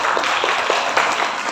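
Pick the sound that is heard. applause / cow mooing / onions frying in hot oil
applause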